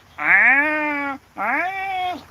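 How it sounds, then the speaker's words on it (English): A cat meows twice in the middle of the night, two long, loud, drawn-out wails close by, each falling in pitch, with a short gap between them and no other sound. "Except for this damn crazy cat. 3 o'clock in the morning, I hear this."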